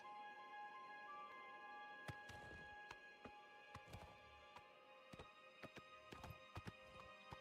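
Hooves clip-clop in quick, uneven bursts as a horse sets off in the video game Oblivion, faint taps rising over a steady hum of game ambience and music tones, with no talking.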